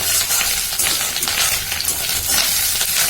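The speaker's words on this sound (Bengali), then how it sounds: "মাছের ডিমটা দেখো এভাবে ভেজে নিচ্ছি" Fish roe frying in a pan, a steady close sizzle with soft crackling and occasional stirring scrapes, loud and continuous without voices.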